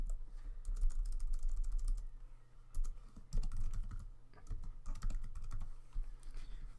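Rapid keystrokes on a computer keyboard while typing text into a page layout, a steady run of light close clicks with brief pauses.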